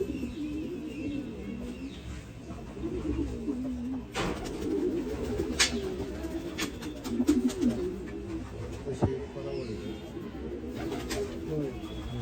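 Racing pigeons coo softly and repeatedly, with occasional sharp wing flaps and clatters, while people talk nearby.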